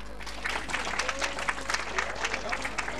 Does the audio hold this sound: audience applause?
yes